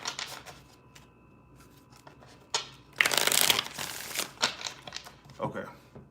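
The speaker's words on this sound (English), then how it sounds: "three more shuffles" Riffled card shuffles, a few crisp rustling bursts near the mic, with quiet murmuring talk between them.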